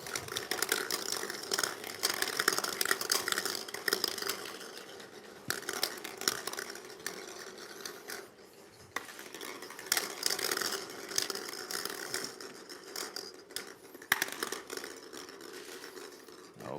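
Plastic draw balls tumble and clatter inside a glass bowl as they are shuffled for a UEFA Europa League play-off draw, a steady rattling churn that runs for several seconds with no talk.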